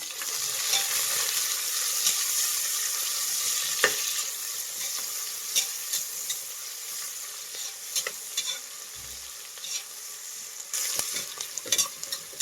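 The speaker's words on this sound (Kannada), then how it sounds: "ಈರುಳ್ಳಿ ಹಸಿ ವಾಸನೆ ಹೋಗೋವರೆಗೂ ಫ್ರೈ ಮಾಡಬೇಕು." A medium-sized cut onion fries in a pan for methi pulao, giving a constant soft sizzle broken by scattered clicks and scrapes of a spatula stirring; there is no talk.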